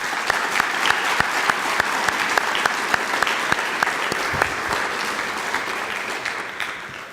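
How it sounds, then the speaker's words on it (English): Audience applause at a high school scholarship night, dense sustained clapping from a large crowd with sharp individual claps standing out, steady and fairly loud before tapering slightly at the end. "how about a round of applause?"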